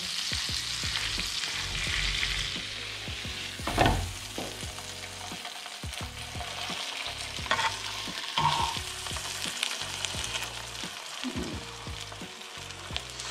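A scored fish fillet frying in butter in a pan, with a loud continuous sizzle up close, broken by occasional scrapes and stirring noises, no voices over it.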